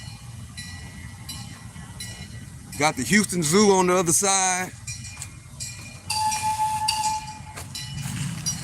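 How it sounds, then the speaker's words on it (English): A train in a large park beside the Houston Zoo sounds its horn, a loud wavering blast in the middle of the clip, with rumbling rail noise before and after. Someone talks over it. "Got the train."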